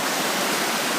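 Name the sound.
river rushing with rocks, trees and debris crashing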